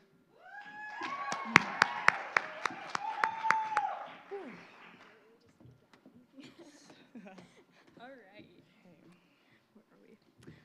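An audience applauds at the Miss St. George Scholarship Pageant: a few seconds of scattered claps over a sustained tone, fading into quiet with faint voices and occasional taps afterward.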